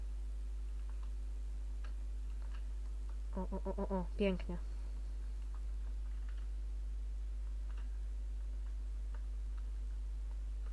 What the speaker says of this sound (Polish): Jak ten zegar wyłączyć?